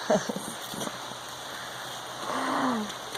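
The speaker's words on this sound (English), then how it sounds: "It started raining." Steady rain hisses in the background, with a brief vocal sound near the start and a short murmur of voice toward the end.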